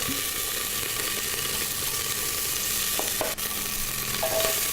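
Steak searing in olive oil in a hot pan makes a loud, steady, continuous sizzle up close, with faint utensil movement and no talking.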